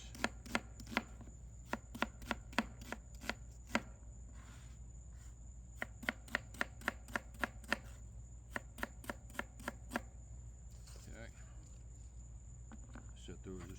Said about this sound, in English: we slice our onions